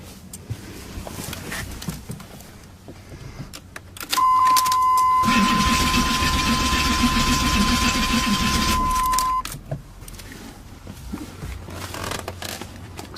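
A 1990s-era LT1 Camaro engine with a possible faulty fuel injector cranks without firing, a loud steady starter whir lasting about five seconds with a high whine, set between quieter stretches of background noise.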